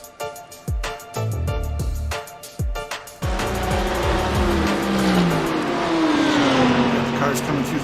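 Race car engines and tire noise in a GT3 racing video game replay at Road America, starting with choppy bursts, then a continuous revving roar with rising engine pitch as a car passes, under commentary.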